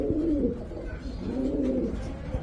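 Racer pigeons coo in a loft, two rolling, throaty coos rising and falling close by over a low background hum, with no talking.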